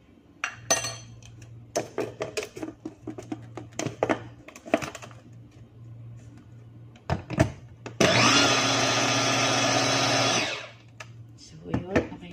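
Kitchen blender whirs loudly for about two and a half seconds, blending banana pancake batter, after scattered clinks and thuds of utensils under a low hum with talk in between.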